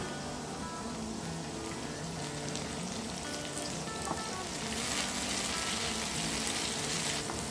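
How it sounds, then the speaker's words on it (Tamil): Tomatoes are sautéed with onions in a pan for a Chettinad vegetable dish, producing a loud, constant close-up sizzle and crackle that grows a little denser near the end, with no speech. "அடுத்து நம்ம வச்சுருக்க தக்காளியை சேர்த்து நல்லா வதக்கிக்கலாம்"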